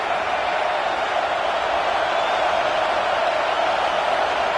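A football stadium crowd roars steadily behind the defense on a third-down play, a dense, unbroken wall of cheering noise with no pauses across the whole stretch.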